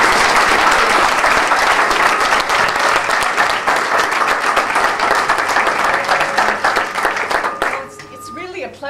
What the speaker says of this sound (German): Ein Applaus für Mary Jo Kreitzer.